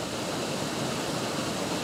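Creek water flowing in a dark forest under ferns, a steady, even rush of moving water with no breaks or other sounds.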